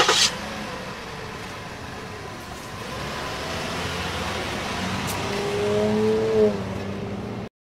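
Car engine revving in a children's cartoon, a fairly faint, steady engine drone that swells gradually toward the end, with a brief high squeal near the start and no speech.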